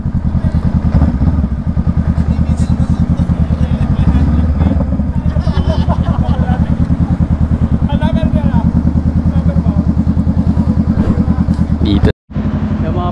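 Motorcycles idling at a Shell gas station in Balagtas during a riders' meet-up with Honda Rebel 500 bikes, a close, steady rumbling engine throb with clattering under it, people talking over it, cut off abruptly near the end.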